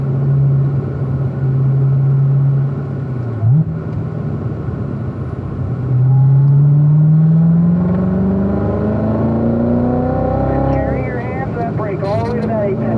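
Race car engine on a racetrack in Pahrump, Nevada, droning steadily close by, then rising in pitch as it accelerates through a corner, with a driving instructor talking over it.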